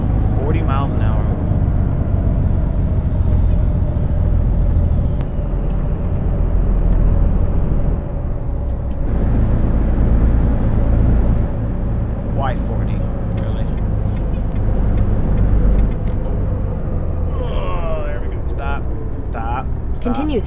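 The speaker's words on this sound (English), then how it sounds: "I hit the engine brake a little bit" A heavy truck in American Truck Simulator rolls downhill with the engine brake on: a loud, steady low engine drone throughout, with occasional short hissing and clunking bursts over it.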